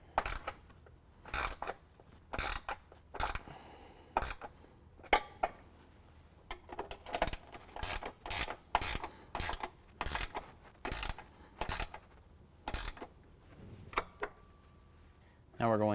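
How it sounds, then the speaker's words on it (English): A ratcheting wrench tightens bolts on step brackets under a 2017 Ford F-250, sharp clicking bursts repeating in quick rhythmic strokes, close up, with short pauses between runs. "we're going to go ahead and tighten them down with a 1/2 inch wrench and ratcheting wrench"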